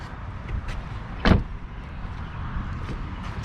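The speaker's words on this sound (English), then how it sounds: "Whoops, don't want to lock the door." On a 2022 Maserati Ghibli Modena Q4, a single sharp lock actuation clicks once near the middle, close and brief, over a quiet background hum inside the car.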